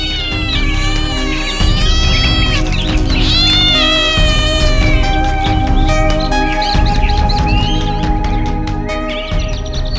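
Several cats meow and caterwaul in drawn-out, rising and falling calls, loud and close over a steady musical backdrop, with no talking.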